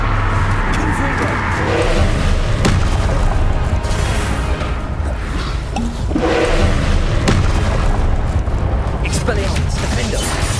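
Repeated blasts from the Confringo fire spell in Hogwarts Legacy, loud booming explosions recurring in a busy spell-casting fight, with a voice talking over the din.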